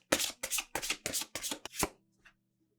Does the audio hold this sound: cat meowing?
no